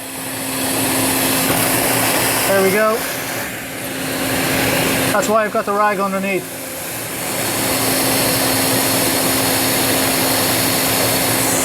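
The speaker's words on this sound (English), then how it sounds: "Now there's no water going down the pipe, it's all going into the vacuum cleaner" Vacuum cleaner drawing water out of a radiator pipe during a valve change, a loud steady whining roar that dips briefly, gurgles and sputters, then resumes, with someone talking over it.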